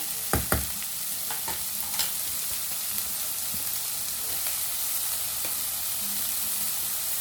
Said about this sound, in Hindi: प्याज को इस तरह से चला लेंगे।